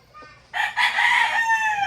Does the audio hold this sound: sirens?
no